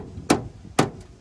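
Two sharp hammer blows on a car body panel of an abandoned Camaro Z28 being worked into place, spaced about half a second apart, close and loud with a brief metallic ring.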